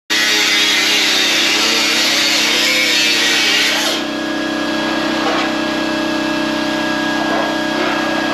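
A power tool grinds loudly and steadily through a damaged, pushed-up floor panel on a 1972 Nova, cutting hard for about four seconds before easing to a lighter continuous whir.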